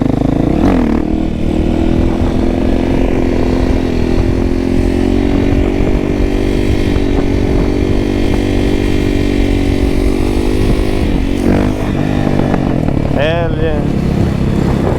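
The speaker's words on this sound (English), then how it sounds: "Do the fucking pops and bangs out of this thing with the Akropovic exhaust" A motorcycle fitted with an Akrapovic exhaust rumbles loud and close while riding, holding a steady engine drone with a brief rev and crackle near the end. A rider's voice comes through over the engine.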